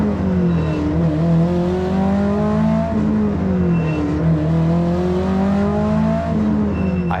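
A race car with a broken exhaust roars loudly and close, its engine note rising and falling steadily through gear changes as it runs on track, harsh and raw throughout.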